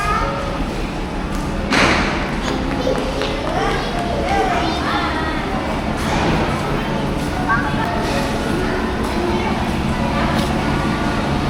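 ST bus depot ambience: a busy, echoing hubbub of crowd chatter, children's voices and scattered thumps and slams, with engine rumble underneath and people speaking nearby throughout.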